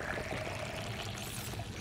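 Water glugs and pours while drinking in the underwater survival game Subnautica, a steady liquid sound lasting under two seconds with no speech over it.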